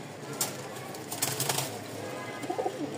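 Domestic pigeons kept for sale coo softly nearby in a loft, with low murmuring calls and a few brief flutters against faint background noise.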